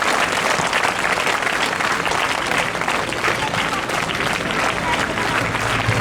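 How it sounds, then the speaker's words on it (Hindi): Steady applause fills a crowded hall as an audience at an education-awareness program welcomes guests onto the stage, dense and continuous throughout, with faint voices and crowd murmur beneath the clapping. "ताली बजाते रहिए, जब तक वो स्टेज में नहीं चढ़ जाते तब तक ताली बजाते रहिए"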